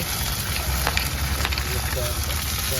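Onions frying in a pan give a steady, close, dense sizzle that stays even throughout.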